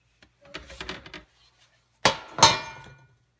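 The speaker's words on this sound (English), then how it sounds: "you're just gonna flip it onto the cooling tray" Homemade wheat bread loaves knocked out of their baking pan onto a cooling tray, giving a few sharp thuds and clatters of metal, with two loud knocks near the end following lighter tapping.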